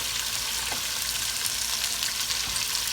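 Beef shoulder sears in a very hot pan, giving a loud, continuous, close-up sizzle and crackle with no voices.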